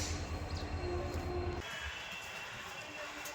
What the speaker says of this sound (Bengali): ট্রেন আসবে আর ট্রেনে উঠবো